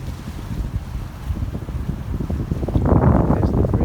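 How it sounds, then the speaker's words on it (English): A 150-horsepower motorboat called the Hurricane runs on the water near Washington DC, with a low engine rumble and heavy wind buffeting that grow louder and rougher toward the end. "This boat is powered by 150 horsepower. It's quite a fast boat."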